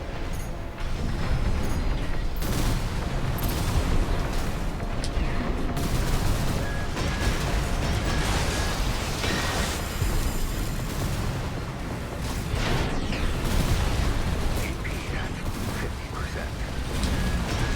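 Missile barrages launching and exploding in the mech combat game Armored Core VI: a dense, continuous roar of rapid blasts, whooshes and mechanical clanks, loud and relentless across the whole stretch.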